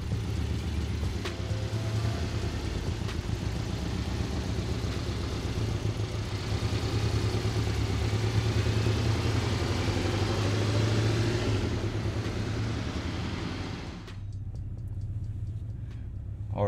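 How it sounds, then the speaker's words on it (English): Porsche 718 Cayman GTS engine running steadily at close range on a driving course, a continuous low drone that holds level for about fourteen seconds before dipping briefly near the end. "So we're doing the follow lead right now in the 718 Cayman GTS."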